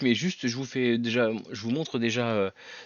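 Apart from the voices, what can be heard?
None of the usual background noises is heard.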